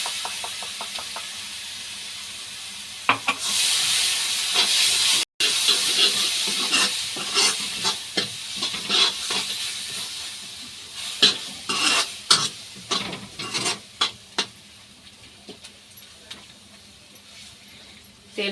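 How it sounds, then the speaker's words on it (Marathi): Tomato puree hitting a hot pan for matar paneer, a burst of loud hissing sizzle followed by a long run of spatula scrapes and knocks against the pan as the sizzle settles, close and alone. "टमाटरची प्युरी टाकून घेऊया।"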